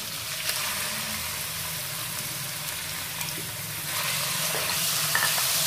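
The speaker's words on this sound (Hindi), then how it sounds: "और इसको फ्राई करेंगे थोड़ा सा।" Small cubes of a single chicken breast frying in a pan, a steady close sizzle running throughout, with faint scraping and stirring sounds and a slight swell near the end.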